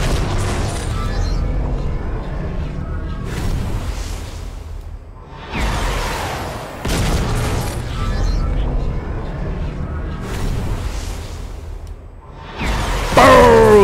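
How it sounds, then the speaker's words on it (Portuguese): Thanos crashing through a roof after a jump in Fortnite, with heavy booming impacts and whooshes recurring every few seconds, loud and close, under excited talk from players. "quando ele pula e quebra o teto é muito da hora"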